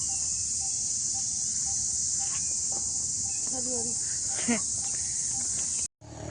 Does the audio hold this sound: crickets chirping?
yes